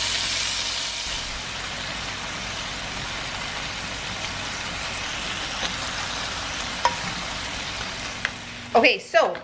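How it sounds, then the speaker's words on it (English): Bacon sizzles in a pan for a keto meal, a steady close hiss with a few faint pops, then a brief voice and clatter at the very end. "we're going to fry up our bacon"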